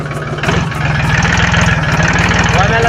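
A tractor engine chugs close by at idle, with steady, rapid low pulses that grow a little louder after the first half second and then hold an even rhythm.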